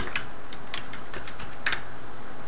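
Rapid keystrokes tap on a computer keyboard as web deploy credentials such as a username and password are entered, loud and close, with a few sharper clicks standing out among the steady typing.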